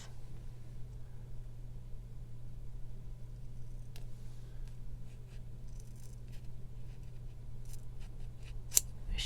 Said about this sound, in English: So let me just cut this in half.